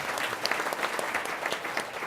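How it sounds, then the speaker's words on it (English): Brief, moderately loud clapping from a panel audience acknowledging a research grant, an even patter of many hands with no voices over it. "Give Philip a big round of applause for the Centenary Institute grant."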